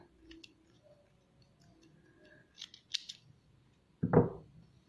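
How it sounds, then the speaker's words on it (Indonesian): Scissors trimming the edges of sewn heavy-weight fabric: a few sparse snips and clicks, then one louder close crunching cut near the end, in a quiet room. "gunting bagian tepinya."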